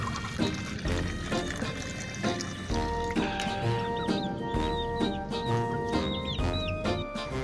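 Hens in a coop cluck steadily while being given water one by one, with soft trickling and pouring sounds, metallic clinks and busy background noise throughout.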